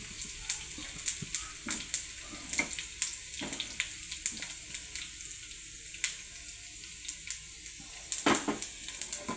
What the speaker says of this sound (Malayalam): അത് നമുക്ക് കരിയാപ്പില ഇട്ട് കൊടുക്കാം. കടുക് വറുത്തതിനകത്തേക്ക്